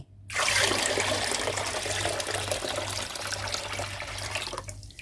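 Water pours steadily into a mangosteen wine mixture for about five seconds, a continuous close splashing stream that starts abruptly and stops near the end, with no voices.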